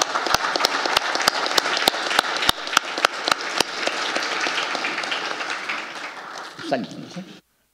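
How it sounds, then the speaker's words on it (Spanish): An audience at a regional technical dialogue on prison management in Latin America applauds the guests, with several sharp, close claps standing out over a steady crowd clapping that fades out, and a voice briefly at the end. "Yo solo termino pidiéndole un gran aplauso para nuestra invitada y nuestro invitado."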